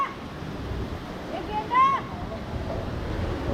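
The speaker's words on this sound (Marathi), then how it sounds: "बघताय मित्रांनो किती मस्त पाणी आलं त्या नदीला." A swollen river rushes after heavy monsoon rain in the Konkan, a steady broad roar of water throughout, with someone speaking briefly over it.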